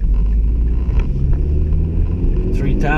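Mazda 6 with a five-speed manual transmission, its engine a loud steady rumble from inside the car under acceleration, with the driver talking over it.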